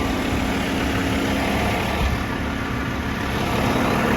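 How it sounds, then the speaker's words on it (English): A truck-mounted concrete pump for foundation work runs with a loud, steady, throbbing diesel engine drone close by, constant and unbroken throughout with no speech. "Hit this button right here and we start pumping."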